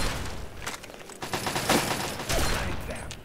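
Shotgun blasts ring out in the Fallout 3 video game, several loud bursts spread across a few seconds over a busy, rumbling combat background.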